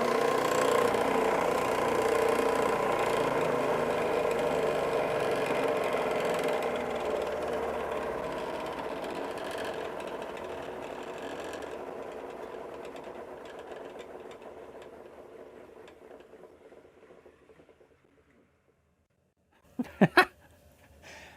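A homemade giant edge sander's motor runs steadily and fairly loud, its hum slowly fading as it spins down to near silence, followed by a couple of sharp knocks at the end.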